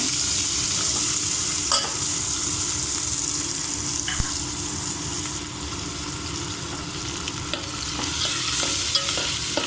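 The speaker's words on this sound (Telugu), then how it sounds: "లైట్ గోల్డ్ కలర్ వచ్చేవరకు ఫ్రై చేసుకుందామండి" Onions sizzle and fry in a hot pan for egg fried rice, steady crackling with intermittent stirring scrapes and clinks close by.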